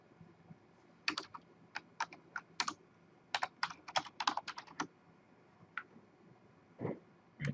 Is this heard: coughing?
no